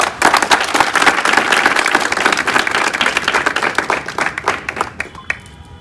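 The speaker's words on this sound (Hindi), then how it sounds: "एक बार इनके लिए तालियां बजाएं।" Audience applause for an army nursing selection coaching group's mentor, a dense burst of many hands clapping that fills the room and then thins into scattered claps before fading out.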